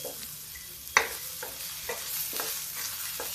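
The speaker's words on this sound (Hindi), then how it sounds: "ये देखिए अभी मेरा प्याज भून रहा है।" Onions fry in a pan for dal tadka, a soft continuous sizzle punctuated by several spaced scrapes and taps of a spoon stirring, close up with no speech.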